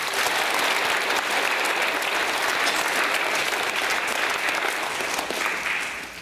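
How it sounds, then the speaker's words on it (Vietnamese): A congregation at a New Year Mass in a Catholic parish church claps in sustained, dense applause that holds loud and even for several seconds before tapering off slightly at the end. "Xin vỗ tay."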